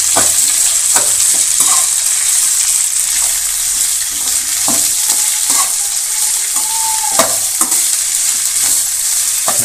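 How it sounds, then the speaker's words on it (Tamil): Onion, curry leaves, green chilli and tomato sauté in a pan for a potato masala side dish, a loud steady sizzle with frequent spatula scrapes and knocks, no one talking. "இப்போ நல்லா வதக்கிங்க."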